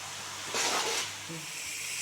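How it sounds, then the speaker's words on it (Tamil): Ground garlic paste hits onions frying in a pan for a fried okra dish, a brief burst of close sizzling hiss that swells then settles, followed by a faint clink. "இப்போ அரைச்சி வச்ச பூண்டு விழுதையும் போட்டுக்கலாம்"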